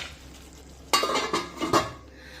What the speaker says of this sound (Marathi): भाजी थोडीशी खालीवर करून घेऊया।